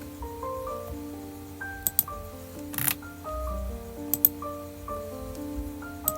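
A series of sharp, isolated computer mouse clicks at irregular intervals, close and clear, over a quiet room with soft tonal background sounds and no speech.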